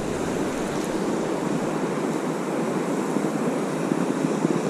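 The high, fast-flowing Pit River rushes in a constant broadband roar, close and loud, with no breaks or voices.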